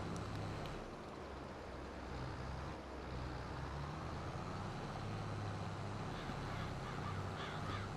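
Birds cawing on a farm in the Farming Simulator 22 video game, harsh crow-like calls repeating over a steady engine hum of farm machinery, moderately faint, no speech.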